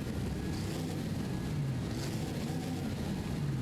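A 6.7 liter V8T diesel engine in the Forza Horizon racing game: a steady, dense, low droning rumble that stays at an even level throughout, with no pauses.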